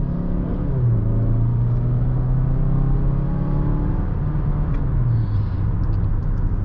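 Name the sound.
2020 Mazda CX-5 accelerating off the line at green light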